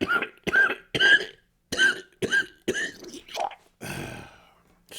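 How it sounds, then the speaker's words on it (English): An elderly smoker coughs in a rapid series of harsh, raspy bursts, about eight close coughs with short gaps, ending in a longer wheezy throat-clearing exhale. "Smoker's cough."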